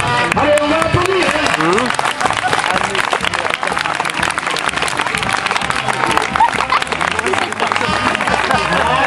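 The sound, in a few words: applause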